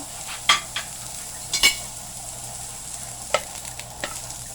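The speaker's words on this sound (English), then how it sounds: "I'm putting that just to saute the onion." Onion sautéing in a pan for a beef fried rice noodle dish, a low steady sizzle broken by a few sharp stirring clinks and scrapes of a utensil against the pan, close and moderately loud with no talk.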